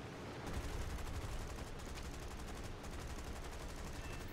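Machine gun fire from an enemy rear gunner in a flight combat video game, a steady dense rattle of rapid shots running continuously under a constant background roar, fairly quiet.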